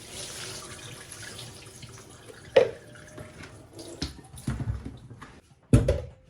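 Soybean sprouts are rinsed with warm water at a sink, with gentle running and splashing water punctuated by several louder sloshes and pours, close by and without speech.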